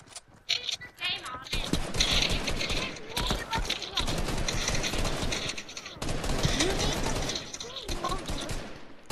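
Rapid gunfire crackles through a Fortnite Creative match in repeated bursts and volleys, loud and close, while players talk and shout over the shooting.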